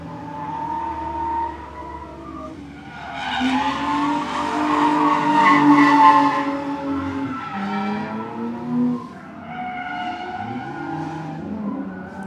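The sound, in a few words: cars tandem drifting with skidding tires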